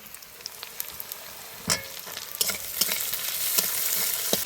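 Onions and tomato stirred in a hot pan, a steady close sizzle of frying with scraping spatula strokes, briefly louder as ingredients go in, no voices.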